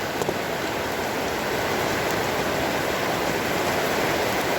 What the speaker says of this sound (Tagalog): hindi tayo makapag-hunt dahil malakas yung ulan ngayon.